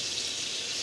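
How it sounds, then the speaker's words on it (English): Tap water runs into a kitchen sink as hands are washed, a soft, steady hiss of flowing water, faint and continuous, with no voice. "I'm going to wash my hands."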